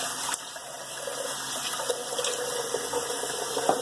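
Cold water runs from a tap and splashes as it is scooped onto a face, a close, continuous gushing with small irregular splashes and no talking.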